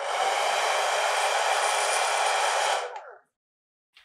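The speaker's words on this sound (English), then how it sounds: "in order to demonstrate wind, I am going to use this hairdryer now" A hair dryer blowing air onto a small wind propeller in a classroom demonstration, a steady loud broadband whoosh held for nearly three seconds before it cuts off and winds down, followed by silence and a faint click.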